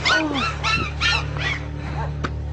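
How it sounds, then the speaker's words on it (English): A puppy gives a run of high yips and whimpering barks close by, several short rising cries in quick succession over a low steady hum, with a person speaking nearby. "Oh, so cute, little puppy."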